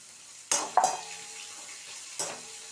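Chopped onion and a slit green chilli sauteing in hot oil in a kadai, with a soft steady sizzle, a couple of sharp metallic stirring clinks, and a later scrape of the spoon against the pan.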